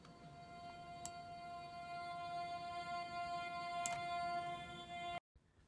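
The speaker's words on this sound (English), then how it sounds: "which is just a vocal chant with quite a lot of EQ and reverb happening." A washed-out background vocal chant drenched in EQ and reverb, forming a sustained, steady drone layered over faint ticking accents in a glitchhouse track, holding evenly before cutting off abruptly near the end.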